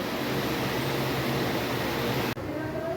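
Electric fan running steadily in a dog kennel during hot weather, a continuous broadband whirr that briefly drops out near the end before resuming.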